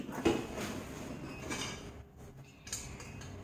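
A small kadai being picked up and set down in a kitchen, with a few close metallic clinks and scrapes followed by quieter handling noise, no speech.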